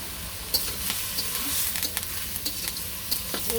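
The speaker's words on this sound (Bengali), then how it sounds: "এখন একটু নাড়াচাড়া দিয়ে নেই" Chili and turmeric being stirred into a cooking pan in a village kitchen: a continuous sizzle broken by a steady run of light spatula taps and scrapes close by, with no talking.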